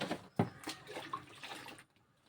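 Organic slurry poured onto cucumber plants outdoors, a short wet splash and gurgling trickle up close that fades to quiet after a couple of seconds.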